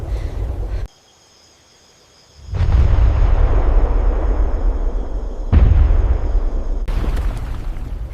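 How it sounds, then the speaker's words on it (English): Wartime bombing of a valley road crossing in 1968 Vietnam: heavy, booming blasts with long rumbling roars, a sudden near-silent gap, then another loud deep surge, constant high insect-like whine over it. "They're bombing the crossing again."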